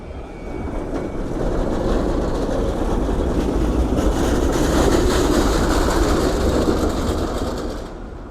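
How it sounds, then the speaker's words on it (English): A loud tram rumbles past on a Helsinki city street, a steady rolling roar with rail clatter that swells and fades over several seconds, with no talk. "that was a noisy tram."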